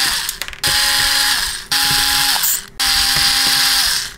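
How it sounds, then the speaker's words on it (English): Small screws being driven out of a metal plate on a Pioneer laser disc player with a powered screwdriver, three loud whirring bursts of about a second each, separated by brief pauses, close up with no talk. "it might be as simple as just removing these 4 screws"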